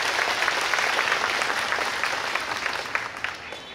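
Congregation applauding during Christmas Eve Mass at Tan Dinh parish church, a steady wash of many hands clapping for nearly four seconds with a faint voice underneath.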